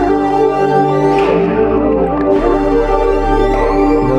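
A dark, textured synth sample with dense sustained harmonic layers, a shifting low drone and swelling high-end movement, playing continuously and loudly on its own.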